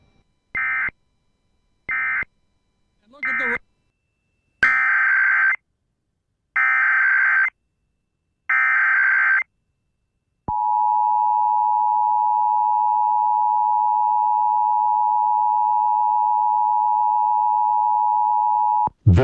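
Virginia Emergency Alert System test broadcast: a series of loud, harsh digital data bursts in short separate blocks, followed by a long, steady, piercing single-pitch alert tone held for about eight seconds.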